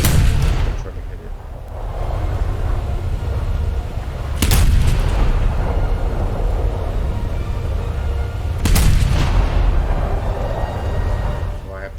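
Naval guns fire in a War Thunder sea battle from a ship moving at 64 km/h, three heavy booms spaced about four seconds apart over a constant rumbling engine drone.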